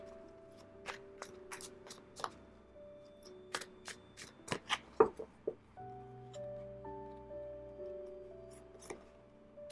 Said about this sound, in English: Let's pull some more oracle cards here.